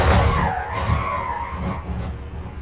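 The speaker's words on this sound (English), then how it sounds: "this is just going until the right rear tire gives out" A race car in a NASCAR Next Gen sim at Phoenix skids as its right rear tire gives out, a sustained tire squeal and scrub over engine noise, fading slightly toward the end.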